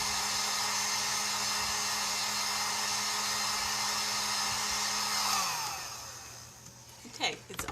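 A hair dryer blows steadily on chalk paste coated onto a craft leaf, a loud, even whir that winds down and cuts off near the end, followed by a few brief handling clatters.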